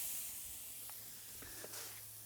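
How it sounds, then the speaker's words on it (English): Thin flat iron steak seared at high heat gives off a steady, faint broadband hiss of sizzling fat, with a few soft clicks over it. "You can hear that sizzle."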